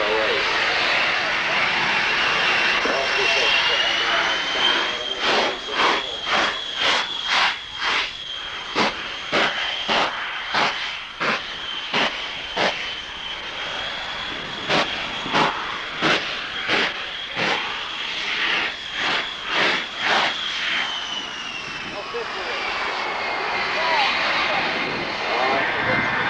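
Patty Wagstaff's Extra 260 aerobatic plane roars past at a 1992 Salinas airshow, a loud sustained engine drone broken by a long series of rapid rhythmic pulses as the prop surges, with a faint announcer's voice underneath.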